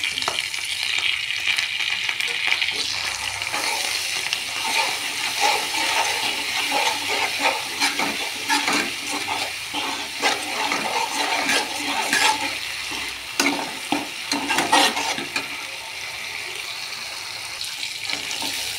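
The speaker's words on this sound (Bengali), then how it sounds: "মশলাটা একটু কষিয়ে নেব।" Ground mustard and poppy seed paste sautés in hot oil in a pan, a dense continuous sizzle and crackle with repeated spoon strokes and scrapes throughout.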